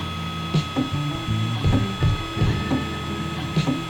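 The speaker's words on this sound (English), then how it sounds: "It's just printing straight lines right now." A 3D printer laying down straight lines, its stepper motors whining in stepped tonal runs with periodic clicks from a nozzle skipping in place, close and steady with no talk.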